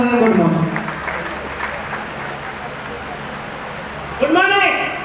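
Loud applause from a large audience at a DXN business success gathering in India, strong at the start, easing into a steady wash, then rising again near the end, with a voice speaking over the clapping.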